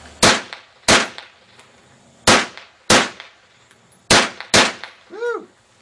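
Six sharp gunshots from an UNCLE carbine during test firing, loud and close, spaced in uneven pairs across about six seconds, with metallic ringing from struck steel targets at the end.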